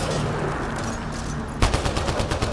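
Enemy gunfire in the Mass Effect Andromeda video game: a steady rattle of shots over a noisy battle bed, then a louder close burst of rapid automatic fire.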